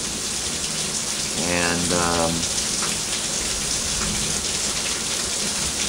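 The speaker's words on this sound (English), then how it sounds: "It's raining outside." Steady rain falls outside, a constant broadband hiss across the whole stretch, with a brief spoken word partway through.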